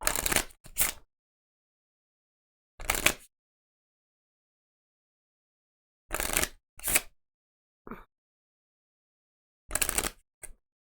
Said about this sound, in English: I will draw these 2 and then shuffle and draw.